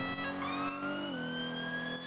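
A loud electronic police siren wails steadily with sweeping tonal harmonics, dropping slightly in pitch near the middle, with no voices over it, in the video game GTA during police roleplay.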